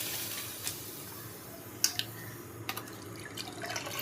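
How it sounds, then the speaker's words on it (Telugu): Soaked rice tipped into a pot of boiling water: quiet splashes and a few soft plops and drips, faint against a low steady background. "ఈ నానిన రైస్ ఏదైతే ఉందో ఈ బాయిల్ అయిన వాటర్లో వేస్తున్నాను"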